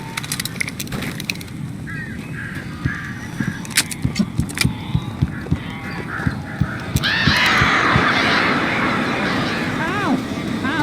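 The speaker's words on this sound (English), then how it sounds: "These birds are weird." Birds in the video game Alan Wake caw and flap in a scattered series of sharp calls, then a louder, dense flurry of shrieking birds swells in the second half, with speech heard alongside.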